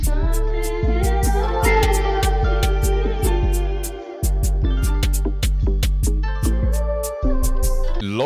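Jersey drill beat built in FL Studio, with booming 808 bass following root notes under a bright repeating melody and crisp, rapid percussion hits, loud and continuous.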